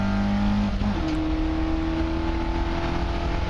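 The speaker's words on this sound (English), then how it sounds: "David Hewiston and Stephen Craggs put the power on and go down the centre straight." Race cars in the Northern Sports & Saloons race at Snetterton put the power on down the centre straight, a loud sustained engine note that shifts pitch as they accelerate, with no voices over it.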